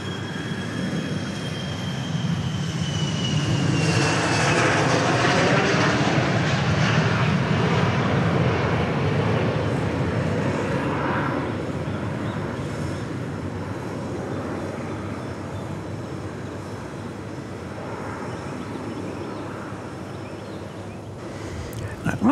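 Airplane taking off on the full length of runway 3 right at Dallas Love Field, a loud sustained jet engine roar that swells and holds steady for over twenty seconds, heard from a distance outdoors with a rising whine.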